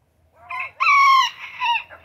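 Rooster in a backyard chicken yard sounding a warning call, a loud, close, rising crow-like squawk in two or three bursts lasting about two seconds, alone with no talk.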